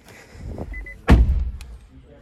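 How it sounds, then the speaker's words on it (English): A Nissan Leaf SV Plus (2023-2025) car door swings shut with a single loud, close thunk, followed by a brief fading rattle, after faint handling noises. "Closing the door now."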